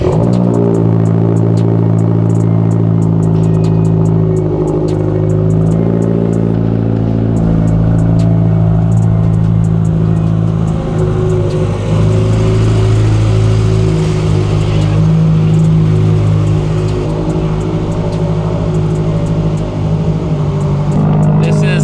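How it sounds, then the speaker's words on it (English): A Subaru engine cold-starts and settles into a loud, steady fast idle with a dense rumble and mechanical clatter, holding close and unbroken throughout with no speech. "let's show him a cold start real quick"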